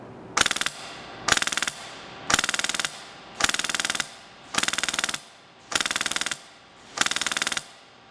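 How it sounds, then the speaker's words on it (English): Custom FN 30-K airsoft gun with a PolarStar engine firing BBs, seven evenly spaced sharp full-auto bursts, each a rapid chatter of shots lasting under a second, close and loud. "Now I am seeing a stream of BBs come out of there on the camera"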